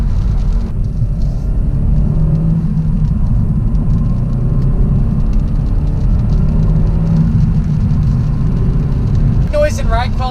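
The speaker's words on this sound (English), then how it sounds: "in terms of acceleration, I wasn't expecting much with 201 horsepower, but it's actually really quick for the car." A 2019 Hyundai Elantra GT N Line hatchback with 201 horsepower accelerates, giving a steady loud cabin engine and road rumble that lasts throughout, with a brief voice at the very end.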